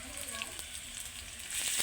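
Spice paste fries with bay leaves in a pan before water is poured in, making a steady, faint sizzle that grows a little louder toward the end.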